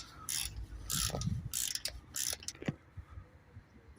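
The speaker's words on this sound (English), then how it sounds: "So just here I'm using a size 4 Allen key or hex. I'm just going to open this clamp off the AdBlue injector here." Size 4 Allen key unscrewing a clamp on the AdBlue injector of a Range Rover 3.0: bursts of close metallic ratcheting clicks in short runs, then scattered lighter taps and scrapes, with no talk.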